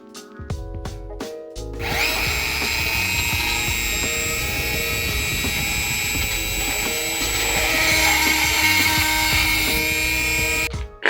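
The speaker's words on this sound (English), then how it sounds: "use a carbide drill bit to just dig out the rest of that" Carbide drill bit boring out hardened exhaust manifold bolt studs on a Ford Bronco II engine. A few brief taps lead into a loud, steady grinding whine that runs without a break for about nine seconds.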